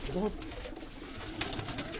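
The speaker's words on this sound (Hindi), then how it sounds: "बहुत बहुत काफ़ी तादाद में कबूतर हैं उस्ताद जी के पास" Pigeons kept in large numbers in lofts on a rooftop give off faint, soft cooing, mostly in the background, while someone talks nearby.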